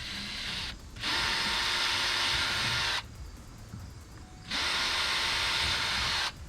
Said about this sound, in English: I'm going to go ahead and use the 13/64 drill bit for those.